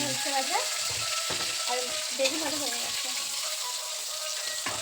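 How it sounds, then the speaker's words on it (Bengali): Slices of pointed gourd (potol) crackle and sizzle as they fry crisp in oil in a home kitchen, a steady bright hiss with faint voices murmuring in the background. "দেখো মচমচে পটল ভাজা ভাজছে এখন।"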